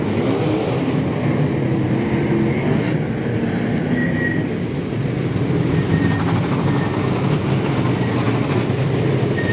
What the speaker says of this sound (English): Sean Black, Mitchell G, Trent Wilson, go, we're racing.